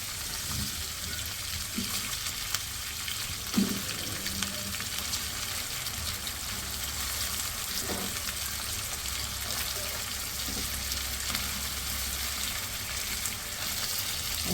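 Eggplant fries in oil with garlic and ginger for Hyderabadi bagara baingan, a steady close hiss of sizzling running throughout with a few faint clicks of a utensil against the pan.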